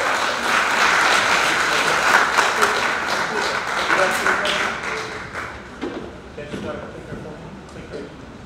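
A large seminar audience applauds as a speaker is welcomed on stage, the clapping loud and full at first, then thinning into scattered claps and taps while voices and room noise take over.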